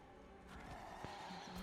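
A horse in the Diablo 4 video game gives a clear, close whinny lasting about a second, set against steady game ambience and soft hoof clops, with no talk over it.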